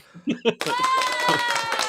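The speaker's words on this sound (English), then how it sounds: "you deserve an applause" A canned applause effect plays on a livestream, a dense burst of clapping that starts abruptly after a few words from a man and carries on steadily under the talk.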